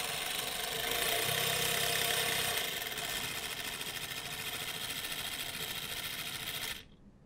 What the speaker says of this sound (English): If we turn up the voltage, then the speed of the motor will increase.